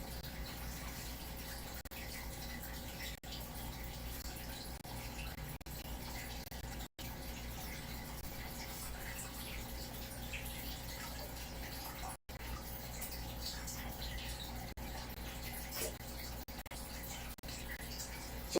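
Steady rushing of water being drained from discus aquarium tanks during a water change, a continuous even gush with brief dropouts, quiet and unbroken throughout.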